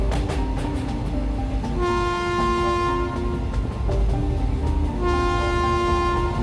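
A train runs steadily with a rumbling roar and long sustained horn tones sounding twice, loud and continuous throughout, in an animated horror story.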